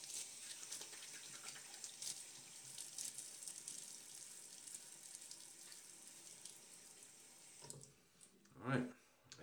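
A bathroom tap runs steadily into a sink with a soft hiss for several seconds, then hands splash water up onto a face near the end, fairly quiet and close.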